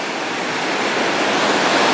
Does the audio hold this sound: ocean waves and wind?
yes